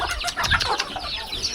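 Chickens clucking close by in a rural village, a quick burst of several overlapping clucks and squawks, loud and busy, with no talk.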